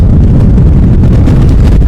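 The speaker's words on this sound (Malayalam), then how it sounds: "വലിയ കാറ്റുമാണ് കേട്ടോ അമ്പ ഇവിടെ നിൽക്കാൻ തന്നെ പറ്റില്ല" Strong wind roars across an exposed rock summit on Agasthyarkoodam mountain, a loud, steady low rumble buffeting the microphone throughout with no break.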